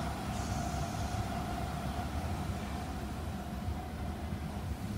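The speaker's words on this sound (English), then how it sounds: "There's a District Line train" A London Underground District Line train rumbles steadily past the Bollo Lane level crossing in Greater London, a continuous mid-distance rolling roar with a faint high squeal early on.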